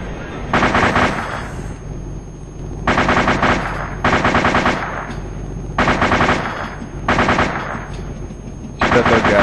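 Machine gun fire in the video game ARMA 2 rattles out in five loud, sustained bursts with short pauses between them, close and dominating the scene.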